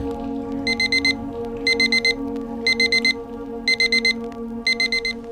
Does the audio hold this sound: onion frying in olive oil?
no